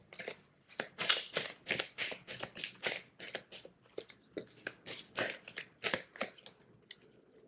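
Tarot cards are shuffled close up in a rapid run of crisp riffling, flicking bursts, steady and rhythmic for several seconds in a quiet room.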